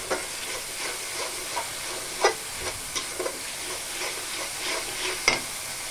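Spice masala sautéed and stirred in a pan for a fish curry, a steady low sizzle with a few clinks and scrapes of the spatula, fairly close.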